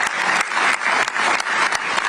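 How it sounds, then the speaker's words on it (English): Audience clapping for speakers at a government policy announcement event, a dense steady round of applause from a crowd, fairly loud and even throughout, no speech. "Let's give them a round of applause"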